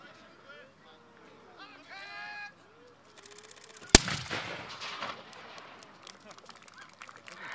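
A single loud gunshot from an 18th-century battle re-enactment at Berkeley Castle cracks out sharply midway, followed by a brief rumbling echo, while people talk and birds sing in the outdoor crowd before and after.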